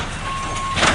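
A big-rig truck with a heavy, poorly secured load backs up on the road. A steady reversing beep tone rings over a loud engine rumble, and a brief burst of noise comes at the end.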